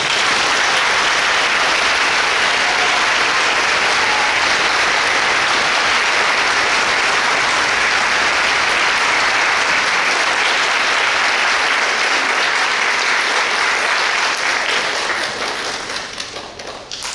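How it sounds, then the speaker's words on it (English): Warm audience applause after a performance at a memorial event, a dense sustained wash of clapping from a large crowd that holds steady for most of its length before thinning and fading near the end. "Let's give them another round of applause."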